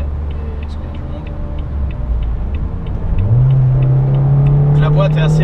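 A 2005 Renault Scenic 2.0 16V with automatic gearbox accelerates from inside the cabin. A low engine rumble swells into a rising, sustained drone as the revs climb, loud and close.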